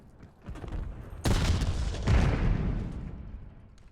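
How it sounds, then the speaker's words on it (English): A Call of Duty multiplayer match gives a grenade blast and gunfire: a loud boom lands about a third of the way in, then a second heavy burst follows, each trailing off in rumbling decay with no talk over it. "Grenade out."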